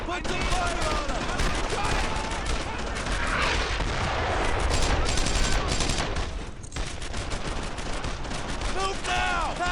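Dense bursts of rifle and machine-gun fire crackle through a firefight in a German-occupied French village in Brothers in Arms: Earned in Blood, with rapid overlapping shots near and far, under shouted soldier voices.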